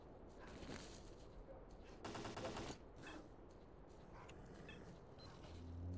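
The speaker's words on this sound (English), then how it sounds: "I really don't want to shoot and kill my guys in a crossfire" Gunfire in a crossfire during the video game S.T.A.L.K.E.R.: Call of Pripyat, a dense rattling burst of shots standing out mid-clip amid a steady background din, with no talk.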